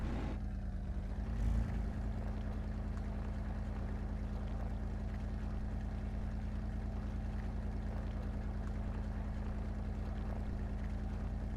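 Toyota Celica in the video game Spin Tires, its engine droning steadily at a constant low pitch as the wheels spin in the terrain, with a brief bump early on.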